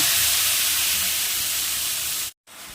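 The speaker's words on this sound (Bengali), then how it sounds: "এবার ওই গরম তেলের মধ্যেই কালো জিরে ফোড়ন দিয়ে দেব।" Nigella seeds tempered in hot oil for a Bengali mustard pabda fish curry give a loud, steady, close sizzle that runs without pause and then cuts off abruptly near the end, with no voices.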